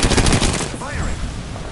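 Rapid automatic gunfire bursts loud and close in a PS4 shooter game, a dense rattling volley that tails off into echoing reverberation.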